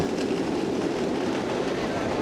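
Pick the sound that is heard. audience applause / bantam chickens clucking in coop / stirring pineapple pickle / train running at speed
train running at speed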